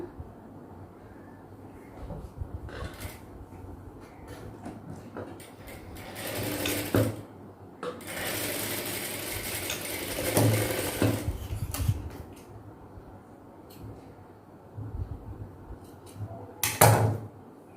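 A sewing machine stitches a pocket cross piece onto girls' shorts in bursts of rapid mechanical whirring, broken by quieter pauses, with a final short burst near the end.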